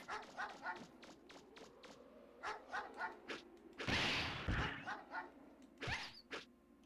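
Dogs in the game Mega Man Legends give a string of short, regular barks at moderate distance, followed by a couple of louder thumping impacts, fairly quiet overall.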